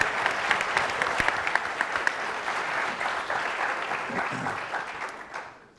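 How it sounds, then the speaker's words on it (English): An audience applauds contestant Kavita at an entrepreneurship challenge, a dense round of clapping with a few sharper individual claps standing out, gradually thinning and fading toward the end. "give her a nice round of applause."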